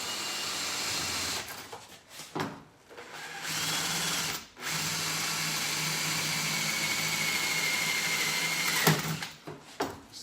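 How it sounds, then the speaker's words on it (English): A power drill runs in several bursts with short stops between them, drilling into a bamboo bike frame, a steady mechanical whir heard up close. "lay your bamboo down firmly and just drill into the bamboo"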